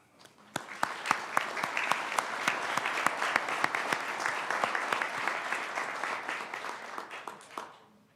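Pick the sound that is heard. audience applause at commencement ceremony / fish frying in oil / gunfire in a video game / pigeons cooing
audience applause at commencement ceremony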